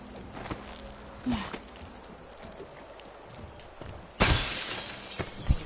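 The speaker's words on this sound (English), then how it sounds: "So what I want to do is break the window." Window glass shatters loudly in the stealth game Dishonored 2, a sudden bright crash that follows a stretch of quiet footsteps and small ambient noises.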